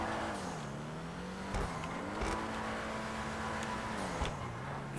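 Dewbauchee Specter sports car drifting in GTA, a steady engine drone holding a wavering pitch as the car slides, with brief tire and impact bursts, moderately loud and alone.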